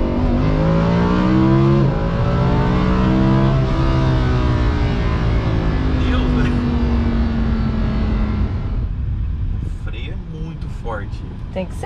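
A rented sports car accelerating on a Dubai road, its engine note rising in pitch through the gears and then settling into a steady drone. People talk over it throughout.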